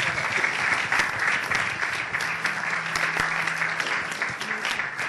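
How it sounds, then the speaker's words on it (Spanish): Lecture-hall audience breaks into sustained applause, many hands clapping in a dense, even roar that holds loud and steady for several seconds, with no voices rising above it. "Vamos a aplaudir porque desde luego yo creo que merece la pena."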